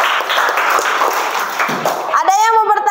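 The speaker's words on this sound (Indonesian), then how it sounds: "tepuk tangan dulu untuk kita semua" Clapping from a classroom audience at the end of a lesson, a short burst of hands that fades under speech, followed by a voice speaking in a rising, melodic tone.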